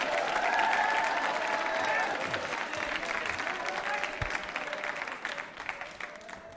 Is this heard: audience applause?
yes